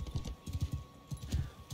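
Horse hooves in the video game Mount and Blade 2 Bannerlord, a quick rhythmic clip-clop of a galloping horse, close and fairly soft, with a brief pause midway before resuming.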